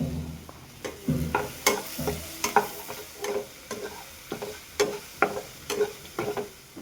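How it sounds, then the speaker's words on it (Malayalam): Chopped onion with salt and turmeric sautéed in a pan, a spatula scraping and tapping in a steady rhythm of sharp, evenly spaced strokes over a faint sizzle, close with no voices. "ഇതിലേക്ക് 1 സ്പൂൺ ഉപ്പും 1/4 ടീസ്പൂൺ മഞ്ഞൾപ്പൊടിയും ചേർത്ത് നന്നായി വഴറ്റിയെടുക്കുക"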